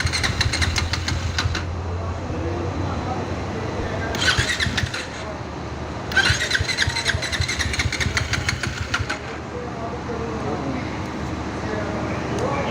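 A broken motorcycle with lost engine compression struggles on a roadside highway, its engine cranking and sputtering in uneven bursts that fail to catch, fairly loud and close with wind and road noise around it.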